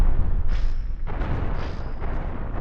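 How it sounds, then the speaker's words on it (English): Cannon shots striking a ship's structure in the space game Cosmoteer, heard as loud, dense booming bursts with rumbling impacts that continue steadily throughout, with no voices over them. "The cannon shots are being blocked by the structure."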